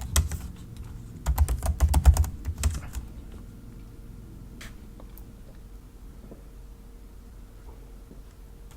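Terminal command typed on a computer keyboard, a quick burst of close key clicks around the second second, then faint scattered taps over low room hum.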